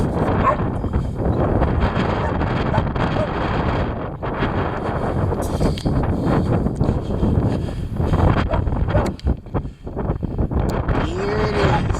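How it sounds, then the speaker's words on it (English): Strong, heavy wind roars steadily and loud against the microphone, buffeting and gusting without a break for the whole stretch. "Here it comes. The heavy wind."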